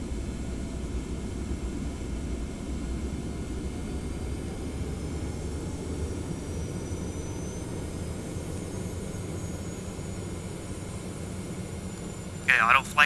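Simulated Boeing 717 taking off in the Prepar3D flight simulator at Hilo heading for Honolulu: a steady, loud jet engine roar holds throughout, with a brief sharp burst of extra noise at the very end.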